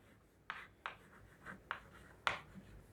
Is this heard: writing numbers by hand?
yes